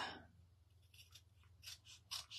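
Scissors snipping a paper strip for a handmade scrapbook shutter card, a few quick crisp cuts up close but quiet, with no voices.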